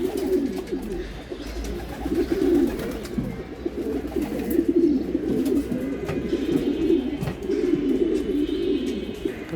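Racing pigeons coo steadily in a loft in Mirpur, Dhaka, during bath time, a dense overlapping chorus of low rolling calls with faint splashes and flutters, close and continuous.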